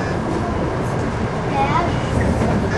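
An ED74 electric train rumbles steadily from inside a carriage, accelerating under full load, a constant low roar with faint rattling; a voice may be talking underneath.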